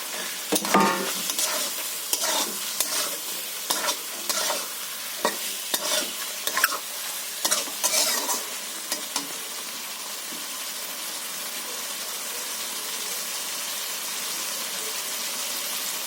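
Fried potato and eggplant go into a sizzling cooked spice paste in a pan for a Bengali hilsa fish curry, with sharp scraping stirs and clatters over the first half, then a steady low frying hiss alone.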